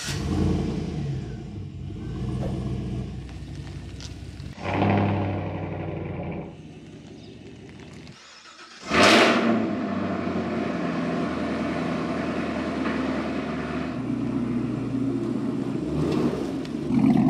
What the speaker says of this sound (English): My favorite part of this exhaust is how deep that rumble is.